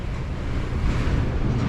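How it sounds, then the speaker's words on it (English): Strong gusting wind at an outdoor farm auction, a continuous loud roar battering the microphone with no voices heard. "Wow, it is really windy here."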